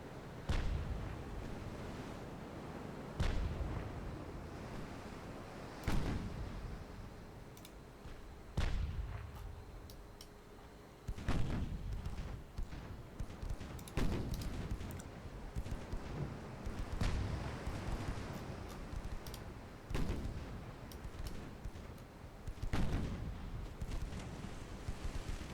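Dreadnought main guns fire in a naval warfare game, a string of deep, booming artillery blasts roughly every few seconds, each rolling off into a rumbling tail over a constant low wind-like background.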